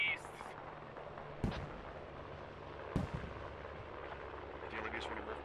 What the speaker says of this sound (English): Grenade taking down both sides of the attack and the dismounting vehicles.